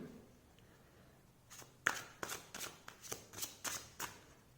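Tarot cards being shuffled by hand, a run of about eight crisp riffling bursts in quick rhythm after a quiet start, close and fairly soft with no talk.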